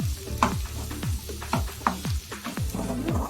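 Ginger frying in a village-style masala egg curry, with close, repeated stirring scrapes in a steady rhythm over a constant sizzle and no talking.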